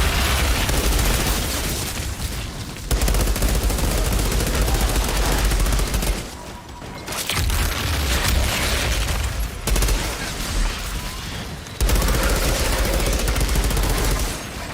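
Near-continuous automatic gunfire in the Outriders video game, loud dense bursts with booms, broken by a few brief pauses across the stretch.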